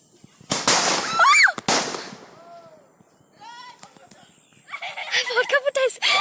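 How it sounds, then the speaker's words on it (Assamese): Firecrackers burst during Bihu celebrations in a village, two loud sharp bangs near the start, with a horse neighing and whinnying afterward and people talking in the background. "ফটকা ফুটাইছে।"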